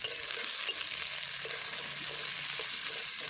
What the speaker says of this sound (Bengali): দিয়ে দেবো কাঁচা টমেটো